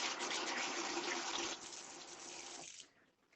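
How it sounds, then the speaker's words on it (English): A kitchen tap runs steadily while hands are washed beneath it, a close, even rush of water that shifts partway through and then cuts off near the end. "So let me just wash my hands again quickly."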